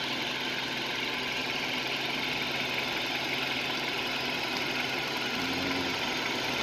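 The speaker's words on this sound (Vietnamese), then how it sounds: "Máy nổ rất êm" A 2010 Kia Carens engine idles steadily close to the microphone, an even mechanical hum with a faint fine rattle, constant in level and with no talk.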